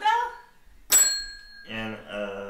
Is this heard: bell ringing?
yes